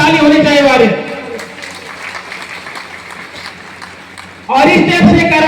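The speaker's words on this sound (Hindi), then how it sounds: "मैं चाहूंगा एक बार गुरुओं के लिए जबरदस्त ताली होनी चाहिए" An audience bursts into applause for the gurus at an event, a sustained wash of clapping between stretches of someone speaking.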